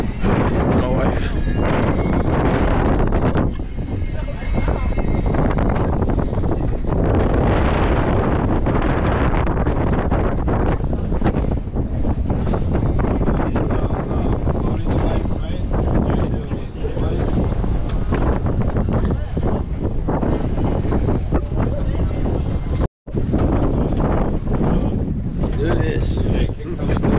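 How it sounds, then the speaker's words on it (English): Strong wind buffets the microphone on a boat over choppy ocean water, a loud, constant roar with gusty surges, and a voice talks over it throughout. "It's a lot of wind."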